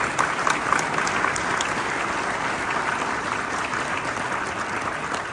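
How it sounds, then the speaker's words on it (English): A large audience applauds a panel discussion at a business summit, a dense, continuous wash of clapping that holds at an even level throughout. "Everyone, please give them a big round of applause."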